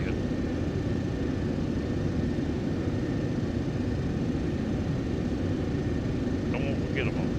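Steady, loud broadband roar of Boeing 747 jet engines in Microsoft Flight Simulator X, a constant cockpit drone for the whole stretch with a few faint high chirps near the end.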